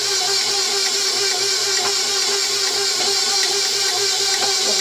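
An electric mixer beats cake batter of milk and dry ingredients, a steady close whirring drone with a low motor hum, running continuously and evenly with no talk.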